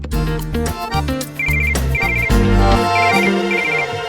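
A phone rings with a melodic ringtone for a late-night incoming call, playing a repeating tune loud and close with no talk over it.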